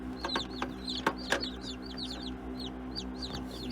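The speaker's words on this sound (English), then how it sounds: "I don't know if you could hear this in the background, but we've had some other chicks hatching." Newly hatched chicks peeping, a stream of high, rapid chirps overlapping one another, fairly close and steady, with some low clucking from a hen underneath.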